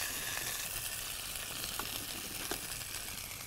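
Rabbit meat sears in a hot pan and builds a crust, with a dense, steady sizzle and frying crackle close up and a few faint stirring touches.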